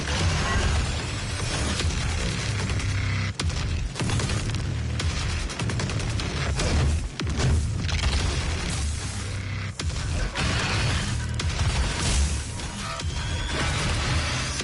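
Dense, loud gunfire and booming explosions from the DOOM video game, continuous rapid shots and blasts filling the whole stretch with no talk.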